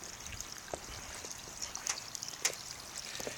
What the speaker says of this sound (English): Got the waterfall working again, as you can see.